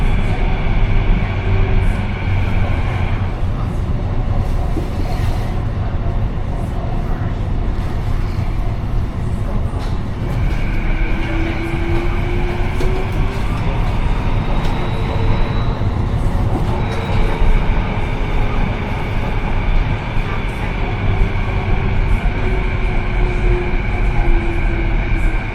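Loud, constant rumble of a Canada Line metro train in Vancouver bound for Waterfront, with tonal whines rising and falling as it travels along the track.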